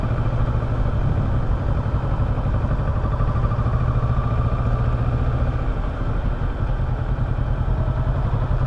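A 2018 Kawasaki Versys 650 ABS Tourer motorcycle running on gasoline while touring the roads of Alagoas and Sergipe, its engine a steady, close droning hum that holds continuously with no voices.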